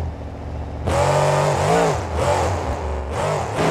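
Monster truck engine at a Monster Jam freestyle event roars up loud and rises and falls in repeated revving bursts, a dense mechanical drone with shifting pitch and no talk over it.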